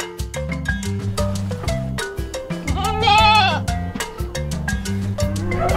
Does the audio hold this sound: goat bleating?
yes